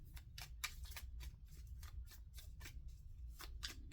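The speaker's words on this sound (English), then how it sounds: "Make sure I shuffle these things up real good." A deck of cards being shuffled by hand, with a series of quick riffling bursts in an uneven rhythm, close but quiet over a low background hum.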